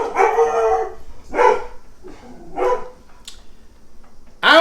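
A dog gives several loud, close barks and drawn-out howling yelps, spaced irregularly with short pauses between them, with no talking.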